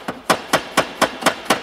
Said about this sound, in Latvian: kad āmuru velk pa to virsmu, ka viņu necilā